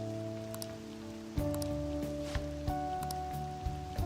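Rain falls in Persona 5 Royal as a soft, continuous patter beneath sustained game music, with a few louder musical hits punctuating the steady wash.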